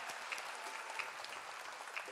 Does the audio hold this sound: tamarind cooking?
no